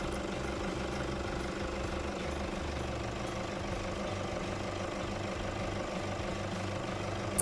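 A 2005 Toyota Fortuner with a 1KD diesel engine idles steadily during an engine oil flush, a low, even rumble with a faint knocking texture, close and continuous, with no talk.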